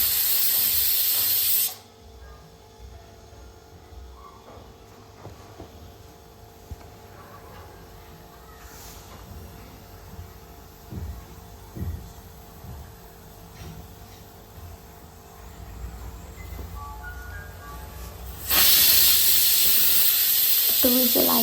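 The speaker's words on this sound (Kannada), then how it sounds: "ಟೂ ವಿಷಲ್ ಆಯ್ತಲ್ವ, ನನಗೆ 2 ವಿಷಲ್ ಆಗಿದೆ." Pressure cooker on a gas stove cooking mushroom pulao, releasing a loud, steady hiss of steam at the start and again at the end, with a quieter stretch between.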